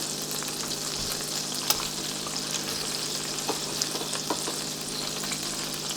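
Potatoes fry in a hot pan for chicken Vesuvio, a steady broadband sizzle with a few sharp crackles and pops, close and continuous without any talking.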